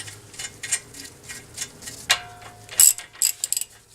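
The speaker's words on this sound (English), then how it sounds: "We'll tighten that down." A ratchet wrench tightens a tie rod on a 2014 Honda Odyssey during a CV axle replacement, giving close, crisp bursts of pawl clicks in short uneven strokes with a few metallic clinks and no talk.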